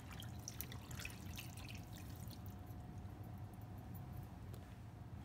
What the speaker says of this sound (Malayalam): ഇനി നമുക്ക് എടുത്തു വച്ചിരിക്കുന്ന പുളിവെള്ളം ഒഴിക്കാം